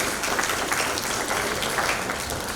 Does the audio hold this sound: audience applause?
yes